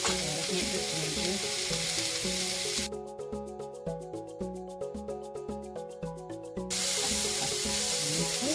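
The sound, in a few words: veggie fried rice frying in pan with garlic and ginger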